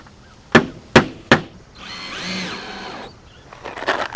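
Three sharp hammer-like knocks on a tiny house roof ridge cap, then a power drill drives a screw with a brief rising whine, followed by quieter clattering handling sounds.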